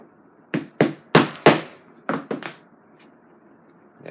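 A hammer striking a rivet into a kangaroo leather seax sheath: a series of sharp, close taps, four in quick succession then three more, ringing briefly on a hard surface with no talk.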